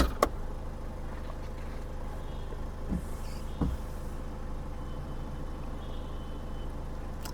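A Ford EcoSport running on low fuel idles after a push-button start, a steady low engine hum close by, with a couple of faint clicks and no voices.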